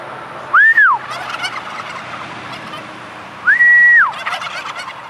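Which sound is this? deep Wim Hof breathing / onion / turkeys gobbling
turkeys gobbling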